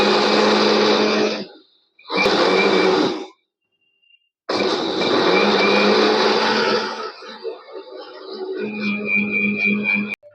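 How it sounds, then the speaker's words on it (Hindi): A mixer grinder grinds raw rice in a home kitchen, its loud, steady whine running in bursts, stopping briefly between runs, then resuming and shifting pitch as the load changes near the end. "नीतू जा रही है पीसने के लिए मिक्सिंग में अरवा चावल को"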